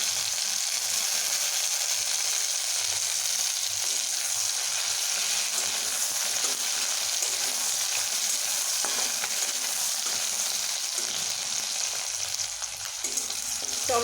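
Tomatoes and mixed vegetables fry in a pan with a steady, even sizzle and crackle, close and continuous, with occasional stirring scrapes near the end.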